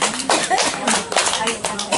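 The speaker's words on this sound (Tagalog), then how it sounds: "Palakpak naman dyan." Audience at a charity Christmas gift-giving event for barangay health workers in Bani claps in steady, dense applause, with voices chattering underneath throughout.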